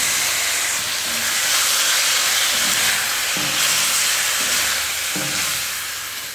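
Half a kilo of chicken hits a hot pan of ginger garlic paste, giving a loud, steady sizzle and hiss with a few clunks of stirring.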